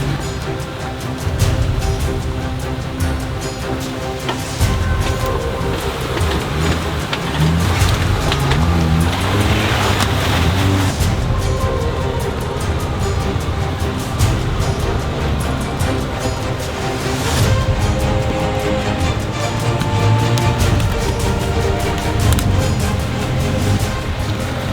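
A Jeep Gladiator on beefy off-road tires crosses a washout on a muddy trail, its engine rumbling steadily and loudly throughout, with water and mud splashing and spraying around the wheels.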